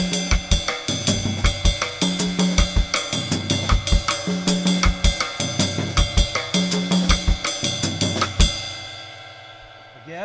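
A drumset plays a West African rhythm with both hands together, a steady interlocking groove of sharp, close, loud hits repeating evenly before ending with a final crash that rings out and fades.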